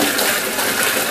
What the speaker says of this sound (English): We've got hot water coming from this hose.